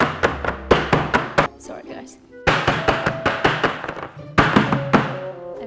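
A cake tin full of butter tart Christmas cake batter is banged down repeatedly in fast bursts of dull, heavy thunks, with a brief spoken apology between the runs.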